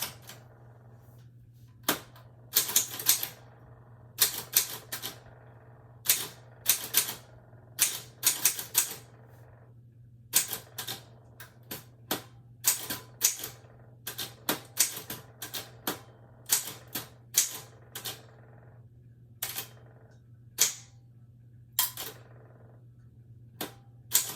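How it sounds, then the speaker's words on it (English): Bursts of loud mechanical key clacks in irregular clusters with short pauses between, over a low steady hum; no talking. "That's why I'm typing this, right?"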